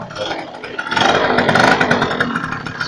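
A Keeway Flash scooter engine running close by, a steady buzzing motor drone that swells in revs and holds a rough, clattering idle throughout.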